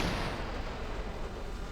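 Anti-aircraft guns on a Type 058 destroyer fire in a naval combat video game, a dense, rumbling barrage of rapid blasts that stays loud and continuous throughout.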